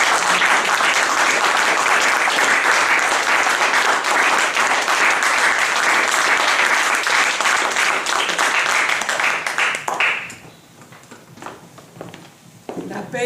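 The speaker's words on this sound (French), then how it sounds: "Et nous allons l'acclamer plus fort" Loud, dense applause with cheering from a church congregation at a women's day service, filling the space for about ten seconds before cutting off abruptly into quieter room sound.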